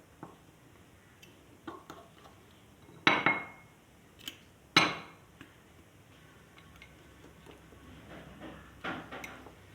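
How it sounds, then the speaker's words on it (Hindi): Flour and egg mixture being mixed in a bowl for an anda paratha: sparse, sharp clinks and taps of a utensil against the bowl, a few louder knocks among faint scraping, close by and without talking. "अच्छी तरह मिक्स कर लूँगी।"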